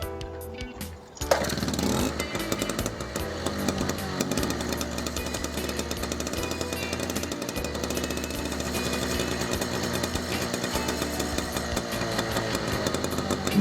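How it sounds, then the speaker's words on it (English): A 1963 Raleigh RM6 Runabout's small 50cc two-stroke engine sputters to life from cold and settles into a loud, buzzy, rattling idle that keeps running close by. "I'll be starting this engine from cold."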